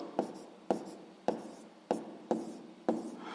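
Pen writing on paper, a math exercise being written out: six short scratchy strokes at a steady rhythm, close and quiet, with no voices.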